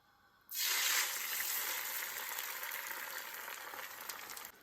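A loud, steady sizzle bursts in suddenly and continues evenly as egg whites fry in hot oil in a pan, with no voices.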